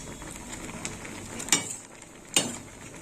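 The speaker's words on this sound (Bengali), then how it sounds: "আর ডালটা এইভাবে ফুটিয়ে নিতে হবে" Matar dal cooked with mango bubbling at a boil in a pot, a soft steady simmer and sizzle with two brief sharper clinks or pops standing out.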